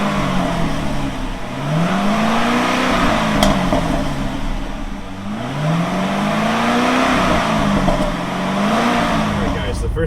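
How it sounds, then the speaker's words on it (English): A manual Chevrolet C6 Corvette accelerates, its engine note climbing in three repeated rising sweeps with gear changes between them, loud and steady from inside the car. "I'm driving the C6 today"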